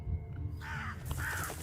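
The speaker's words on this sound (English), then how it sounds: "That's a lot of crows." In the horror video game True Fear: Forsaken Souls, a crow gives two harsh caws over a low background drone. The calls are moderately loud and come in quick succession, with no talk.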